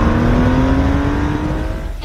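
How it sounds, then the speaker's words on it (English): A loud sports car engine sound revs hard from a musical instrument or toy, holding a rising growl, then easing slightly, close by and with no talking. "they don't make cars that sound like this anymore"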